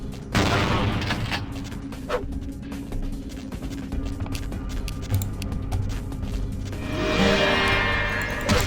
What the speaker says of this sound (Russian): я хотел с дробовика выстрелить